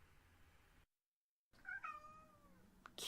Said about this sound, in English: you meow at me and you disappear